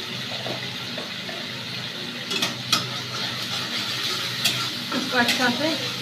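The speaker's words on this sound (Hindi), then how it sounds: "इसको अच्छा से फ्राई करेंगे।" Potato paratha filling being stirred and fried in a pan, with a steady sizzle and scattered scraping clinks of a spoon against the pan, close by, under occasional faint talk.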